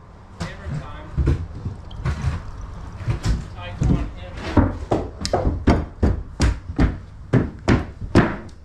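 Repeated hammer blows on wood during a house remodel, a steady run of loud, close thuds roughly every half second that pick up pace toward the end, in a reverberant room.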